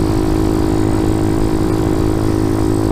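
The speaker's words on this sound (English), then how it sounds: "Ooh, there goes my bike again. It was just breaking up, hopping, running like trash." A motorcycle engine running rough and breaking up, a loud, steady close-up drone with an uneven, faintly stuttering texture throughout.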